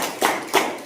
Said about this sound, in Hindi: अरे ताली बजाइए सर